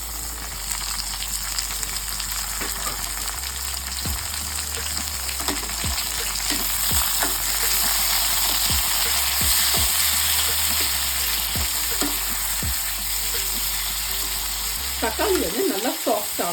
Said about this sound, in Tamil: தக்காளி நல்லா சாஃப்ட் ஆகணும், அது வச்சு ஃப்ரை பண்ணணும்.